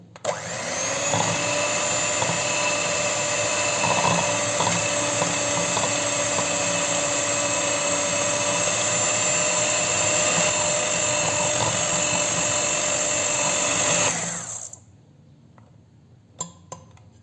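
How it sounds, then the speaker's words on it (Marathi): A kitchen mixer grinder blends cold coffee in a steady, loud whirring drone for about fourteen seconds, then cuts off, leaving near silence with a couple of small clinks. "पुन्हा एकदा मिक्सर ह्याने मिक्स करून घेऊया"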